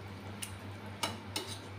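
A lid set onto a cooking pot of prawn and vegetable curry, three short metallic clinks spaced apart, the last two close together, over a faint steady hum with no talking.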